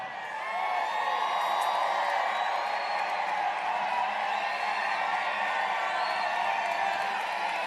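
A large crowd at a Donald Trump campaign rally in Moon Township cheers in a sustained, even roar that stays loud and unbroken throughout.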